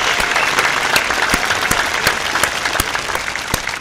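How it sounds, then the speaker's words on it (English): Steady applause from a group fills the whole stretch, dense continuous clapping at even loudness with a few sharper claps standing out, no voices over it. "Give yourself a round of applause."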